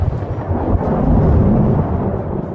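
A heavy thunderstorm sound effect rolls on as a loud, low rumble of thunder, steady and dense for a few seconds with a hiss of rain.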